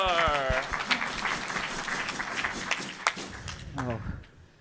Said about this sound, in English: Let's clap it up for these